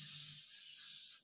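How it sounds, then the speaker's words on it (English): A short hissing burst of cooking spray onto a flat baking pan, close and steady for about a second before cutting off. "bit of spray. If you don't have a spray, just put a bit of oil on it"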